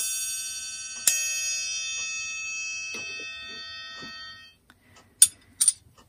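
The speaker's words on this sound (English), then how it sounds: "We also have our triangle, and I've actually left the thing that chimes it" Metal triangle struck with a makeshift beater instead of its usual striker, ringing out alone with a bright shimmering tone that decays over about three seconds, followed by a few lighter taps and two short clinks near the end.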